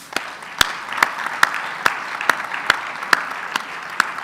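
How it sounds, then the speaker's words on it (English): Conference audience applauds a plenary panel at eLearning Africa 2024, a soft bed of clapping punctuated by one sharp, close clapper striking in a slow, even rhythm. "I want to give a final round of applause to our excellent panel here"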